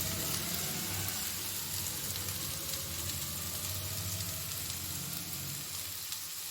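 Chicken sizzles steadily in hot oil in a pan, a continuous close crackle and hiss with no talking.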